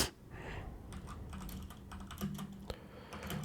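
Typing on a computer keyboard at a Linux terminal, a string of close, crisp key clicks in an uneven rhythm over a low steady hum, with no one speaking.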